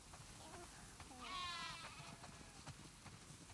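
Sheep bleating on a farm in the video game The Last of Us Part II, a few wavering bleats rising clearly around the middle of the clip over a steady ambient background.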